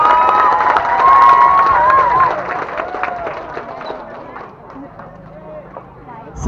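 Cheering and applause from a school crowd at the 17th anniversary celebration of SMK Al-Mizan Sekayam, loud at first and gradually fading, with shouts and voices mixed in.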